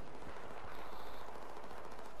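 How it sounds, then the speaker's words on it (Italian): Dense, continuous gunfire and explosions fill a Battlefield 4 multiplayer battle on the Operation Firestorm map, a steady loud roar of shots with no clear gaps and no talking. "Però si sentono degli spari provenienti da questa parte."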